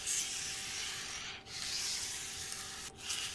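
Scraping wood in the video game West of Loathing, a continuous rough rubbing rasp in long strokes with two brief pauses, steady and moderately loud with no voices.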